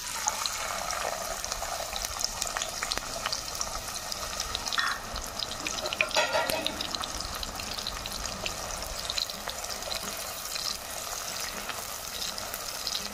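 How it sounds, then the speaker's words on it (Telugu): Thinly sliced onions, two large ones, fry in hot oil for a brinjal curry, giving a steady, close sizzle and crackle that runs unbroken throughout with no talking. "ఆయిల్ వేడెక్కింది. ఒక 2 పెద్ద ఉల్లిపాయలకి సన్నగా ముక్కలు చేశానండి. అవి అయితే వేస్తున్నా."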